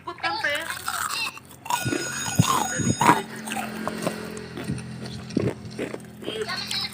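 Homemade chicken and vegetable nuggets are bitten into, giving several crisp crunches and chewing sounds spread across the stretch amid talking and some background noise.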